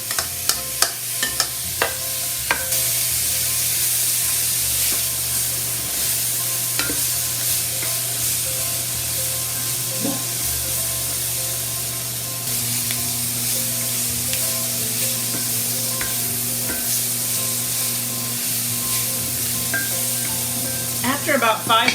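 Green beans with marinade poured over them sizzle and fry in a hot pan, a continuous loud hiss with scattered pops and occasional stirring scrapes, no talking.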